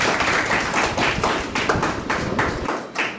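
Children clap hands together in a classroom in a steady rhythmic series, loud and close, without talk.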